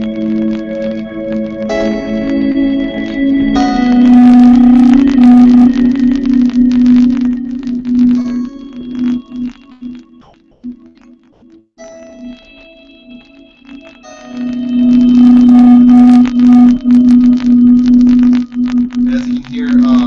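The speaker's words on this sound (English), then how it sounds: "And so I have a reverb going into another reverb and 3 delays before that" Electric guitar notes swell and sustain through three delays feeding two reverbs, a loud ambient wash of layered tones that fades to near-silence midway before a new swell rises again, with no voices.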